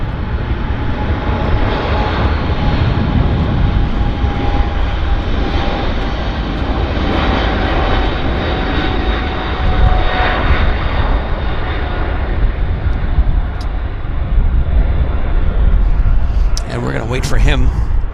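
A fixed-wing airplane cleared to land on runway 26 left at Vancouver airport roars steadily and loudly throughout as it comes in, with a brief sharper rise near the end.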